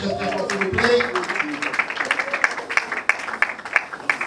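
Audience clapping at a trophy ceremony for artists and actors, a steady patter of many hands that follows a brief burst of talk and then fills the room at moderate loudness.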